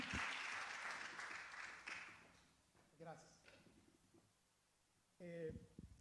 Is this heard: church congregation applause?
yes